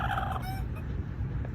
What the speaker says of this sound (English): look at this wild chicken I had in my research facility